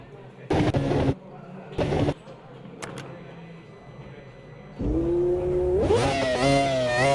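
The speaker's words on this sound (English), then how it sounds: "since it's an F1 car from that time, we are going V10" The V10 engine of a 1998 McLaren F1 car in a racing simulator, heard first as two short loud revs with a quiet gap, then a sustained rising engine note that climbs through higher revs toward the end.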